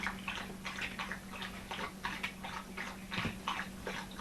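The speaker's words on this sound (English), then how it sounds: "my dog decides she wants to drink some water right now." A dog laps water from a bowl nearby, a quiet, rapid run of wet rhythmic slurps continuing steadily over several seconds.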